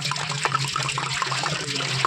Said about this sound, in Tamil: 3 கேன் தண்ணி அளவு ஊற்றிக்கிறோம்.